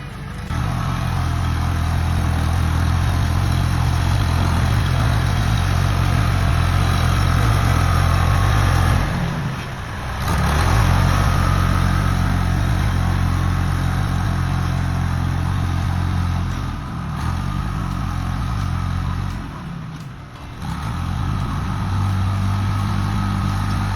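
An old tractor engine runs steadily and loud in the rain, with a low rumbling drone that dips briefly a few times as the load changes, and no talk over it.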